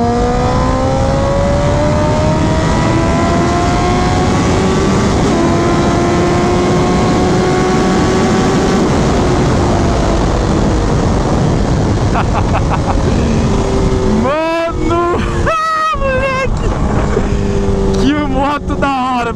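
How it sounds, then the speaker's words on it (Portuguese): A 2004 Suzuki GSX-R 1000 K4 sport motorcycle engine revving hard and close, sustained high roaring with rising and falling pitch, then sharp throttle blips near the end while someone talks excitedly over it. "Nossa, que delícia que é acelerar essa moto"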